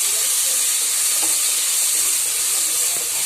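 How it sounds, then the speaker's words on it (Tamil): Onions and curry leaves sautéing in a hot pan, a dense, steady sizzle with faint scrapes of stirring, close and loud. "இப்போ நல்லா வதக்கிக்கலாம்"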